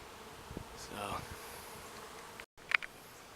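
Agitated honeybees swarming around the spot where their hive used to be during a relocation to a top bar hive make a steady, faint buzzing drone that continues throughout, with a brief dropout near the end.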